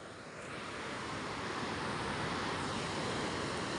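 Small sea waves wash onto a shore in a steady, broad rushing surf noise mixed with wind buffeting the microphone, continuous and fairly close, with no one talking.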